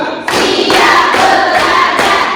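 A sociology class claps together in a counting clap chant, loud, close group claps with thumping hits in a quick rhythm.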